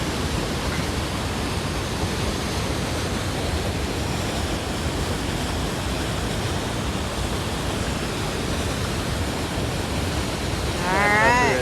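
Niagara Falls roars as a steady, dense broadband wash of falling water, constant and enveloping for the whole stretch, with a faint voice-like chirp at the very end.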